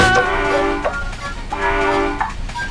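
A moving train sounds two long, loud horn blasts with a brief gap between them, over a rumbling rail background.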